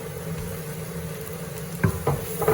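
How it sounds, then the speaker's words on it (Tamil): Prawns drop into a hot frying pan of softened onions, giving a steady, close sizzle with a few sharp bursts and clatters near the end as they land. "இப்போ வந்து ராளை போடுவோம்"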